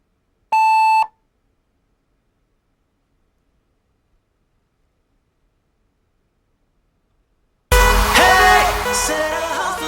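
A single loud electronic timer beep sounds alone near the start, a short steady tone lasting about half a second, followed by long silence before music begins.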